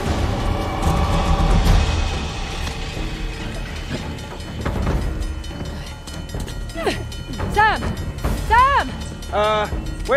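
Rumbling, clanking train noise with squealing metal wheels and rhythmic mechanical clatter, steady and close, with scattered game sound effects over it, from the video game Uncharted: The Lost Legacy.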